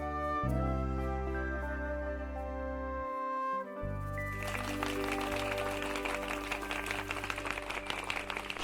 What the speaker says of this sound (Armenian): Այո, ծափահարություններ են հիմա մեր եթերում հնչում